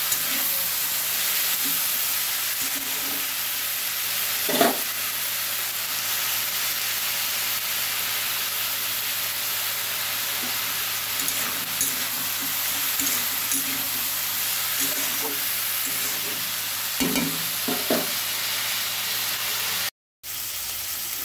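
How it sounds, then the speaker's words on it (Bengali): Freshwater gneri snails frying in oil, a continuous broad hiss and sizzle that holds steady for a long stretch, with occasional faint clinks and a brief dropout near the end. "ভাজা হচ্ছে।"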